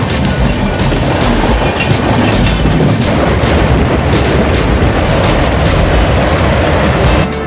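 The Brahmaputra Mail passenger train runs on rails with a loud, continuous rumbling roar and rattling clatter heard close, with no voices.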